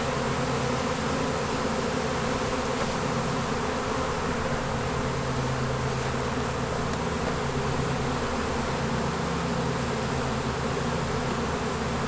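A honey bee swarm hums outdoors on a branch, a dense, steady buzzing of many bees up close that stays loud and unbroken throughout, with bees fanning nearby and no voices.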